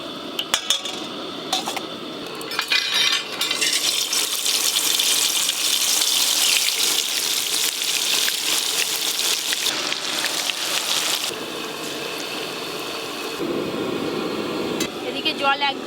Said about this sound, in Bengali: এদিকে জল একদম টকবকা হয়ে ফুটে গেছে